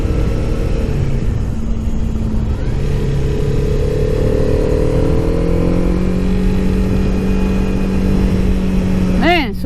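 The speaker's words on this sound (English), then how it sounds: "so much fun riding a motorcycle" A Honda CB300R motorcycle is ridden along with its engine humming steadily and shifting in pitch as it accelerates, loud and close under wind noise, with a rising rev near the end and a rider talking over it.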